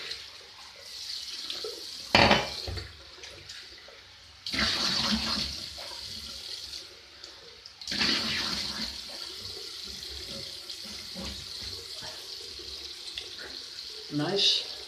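Tap water running into a bathroom sink to rinse it after a shave, bursts of splashing flow starting and stopping several times, close and fairly loud, with a few brief knocks between.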